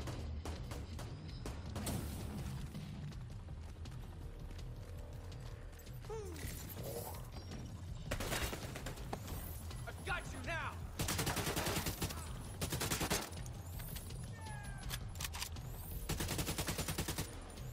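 Gunfire aimed at the player in the video game The Division 2, with bursts of rapid shots, mechanical clatter and brief gaps, all holding a steady loud level over a busy game backdrop.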